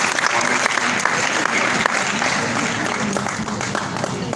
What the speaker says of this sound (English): So we can clap for him one more time.